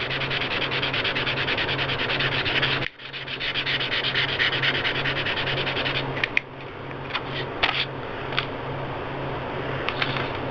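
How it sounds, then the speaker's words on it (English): Light hand sanding with extra fine 400 grit sandpaper: continuous close rhythmic rubbing strokes, briefly pausing, then resuming with a few small scratchy taps. "we're going to take some very fine sandpaper, which is about what they call extra fine, 400 grit, and we're just going to lightly"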